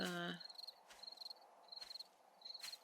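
Short, evenly spaced bursts of high-pitched cricket chirping repeat steadily over a quiet background at evening in the video game 7 Days To Die, with a brief low hum at the very start.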